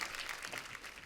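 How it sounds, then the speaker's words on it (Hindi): Faint, distant applause from an audience, a soft wash of clapping lasting about a second. "जोरदार तालियां हो जाए एक बार"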